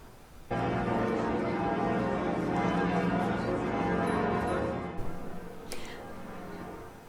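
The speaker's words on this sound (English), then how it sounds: "Bells at Notre Dame Cathedral in Paris tolled 88 times as a tribute to the Pope" Large bells of Notre Dame Cathedral in Paris ring out continuously, their overlapping tones sustained and resonant, fairly loud and echoing before fading slightly.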